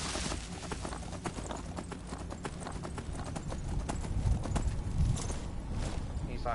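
Steady clip-clop of a skeleton horse's hooves in Skyrim at a walking pace, fairly close, with a faint voice talking in the background.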